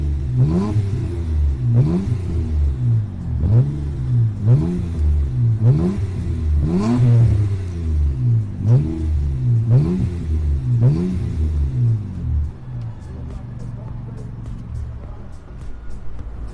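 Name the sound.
Nissan Maxima A33 3.0 V6 engine revving, stainless exhaust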